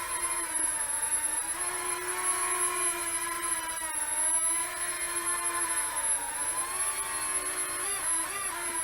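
Star Wars Millennium Falcon toy quadcopter drone flying slowly indoors, giving a steady high whine of small motors with a strong constant tone throughout and slight pitch wobbles near the end.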